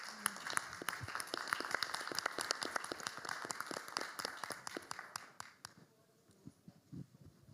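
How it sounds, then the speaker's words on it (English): A smallish audience at a panel event on climate action claps for the panelists: distinct individual claps, fairly close and sparse, trailing off into near quiet with a few last claps. "Please give them a big round of applause."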